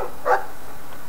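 A single short dog bark in the Dragon Age II video game, fairly close and clear, followed by quiet.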